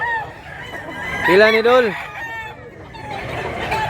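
Roosters offered for sale crow loudly and close by, with one long, rising and falling call in the middle. Clucking from the fowl and a man's brief question run beneath it.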